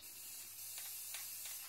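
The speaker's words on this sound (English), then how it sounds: "that's a good spray and almost nothing has come out of it." An aerosol gloss spray can releases a soft, continuous hiss close by, broken by a few short pulsing bursts over under two seconds, faint and without speech.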